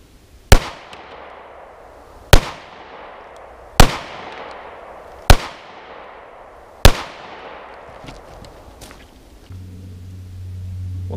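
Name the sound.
FN57 pistol shots, Federal American Eagle 40 grain FMJ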